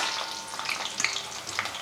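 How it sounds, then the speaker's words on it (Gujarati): French fries deep-fry in hot oil, giving a steady bright sizzle with crackling pops, close and continuous, with no voices. "આને પણ તળી લઉં."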